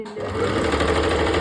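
A sewing machine starts up and runs steadily while stitching a georgette shirt, with a loud, close, rapid whirring hum after a brief quiet moment.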